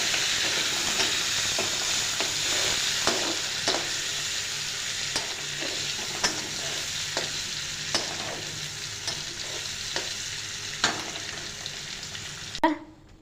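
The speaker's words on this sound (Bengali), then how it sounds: "এখন পনির ভাজা করবো" Paneer pieces fry in hot oil in a home kitchen, giving a steady, fairly loud sizzle throughout, with occasional clinks and scrapes of a spoon stirring in the pan.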